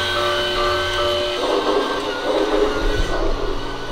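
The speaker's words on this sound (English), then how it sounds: "Oh, train's going. This is the sound one." A toy train running along its track indoors, a steady close mechanical whir and light rattle with a faint tonal hum, continuous throughout.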